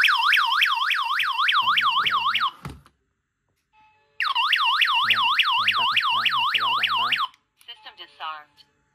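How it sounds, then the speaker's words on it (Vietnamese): A Tp-267-4G home security alarm siren sounds in rapid warbling electronic whoops, loud and close, in two long bursts separated by a pause, with brief beeps and a short voice prompt near the end. "bây giờ mình thử báo động này, kích hoạt nó lên"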